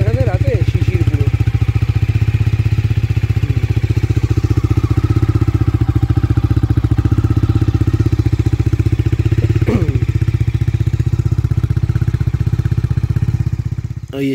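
Close, loud idling of a motorcycle engine after a cold start on a dewy night at a camp, a rapid, even chugging throb that holds steady, with brief voices briefly audible over it.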